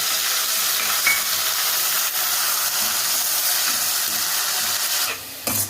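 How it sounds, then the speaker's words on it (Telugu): Onion paste frying in oil in a pan for a masala stuffed brinjal curry, a steady close sizzle and hiss running throughout with a few faint stirring scrapes, no talk. "ఉల్లిగడ్డ పేస్ట్ ఇట్లా మంచిగా ఫ్రై కావాలి"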